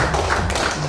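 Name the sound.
audience applause at a community meeting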